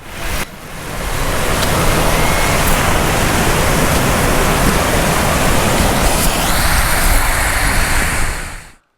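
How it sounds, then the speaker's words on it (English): Beach surf on Gasparilla Island in southwest Florida, a loud, continuous wash of breaking waves with steady roaring noise that fades out at the end, no voices present. "go to the beach. For this particular project, I went to Gasparilla Island in southwest Florida"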